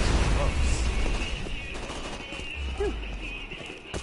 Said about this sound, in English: Kill the auto cannon!